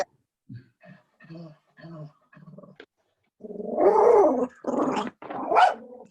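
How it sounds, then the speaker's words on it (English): A dog barks and growls during a parks and recreation commission meeting held online, a few small yaps followed by louder, longer growling barks close to the mic, with no one talking over it. "Who's got the dog?"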